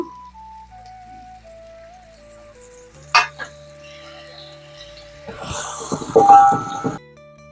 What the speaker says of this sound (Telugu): నూనె బాగా వేడెక్కింది ఇప్పుడు ఉల్లిపాయలు వేస్తున్నాను